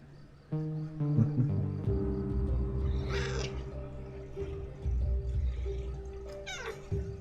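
A pet cat meows indoors several times in a row, close and fairly loud, over steady background hum.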